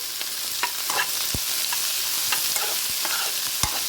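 Capsicum pieces stirred in a hot cooking pan with onions, a loud steady sizzle broken by repeated sharp scrapes and clacks of the spatula at irregular intervals, no voices.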